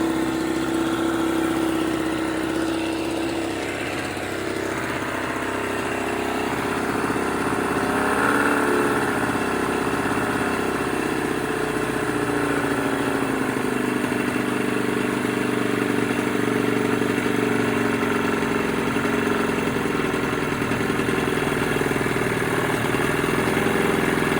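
A 1985 Johnson 15 hp outboard motor, revived after sitting for 26 years, runs steadily with a continuous droning engine note, close and loud throughout with no talk.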